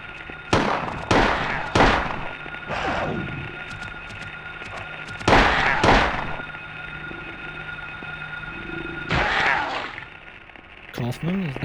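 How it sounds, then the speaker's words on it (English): Gunshots in the video game Silent Hill 1 ring out as a series of sharp bursts, several in quick succession and then isolated shots, over a low droning game ambience. "Gunshots."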